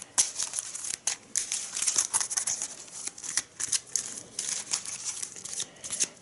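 Mage Knight board game cards being shuffled, a dense run of papery riffles and crisp flicks packed close together, steady and fairly quiet, with no voice over them.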